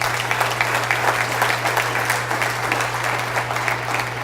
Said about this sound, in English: Let's give Chuck a round of applause